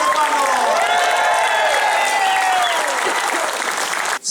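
Concert audience applauding, with cheering and whoops, at a live music event; the applause is loud and sustained throughout, stopping abruptly at the end.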